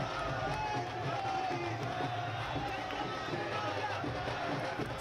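A large street crowd packs a chief minister's road show in Meerut, with a steady, dense roar of voices and commotion that never lets up and stays close and loud throughout.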